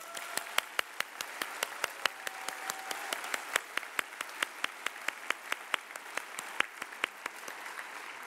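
Graduation audience at a health professions school ceremony applauds its community partners, a steady run of sharp, evenly spaced claps ringing out over a softer bed of crowd clapping, loud and close throughout.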